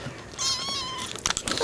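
A cat gives one clear, drawn-out meow close by, then short scuffling and squeaky bursts follow as more cat noise comes in. The sound is moderately loud, with no talking.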